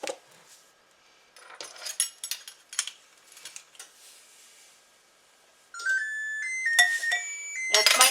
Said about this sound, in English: That's my oven. I preheated it to 425.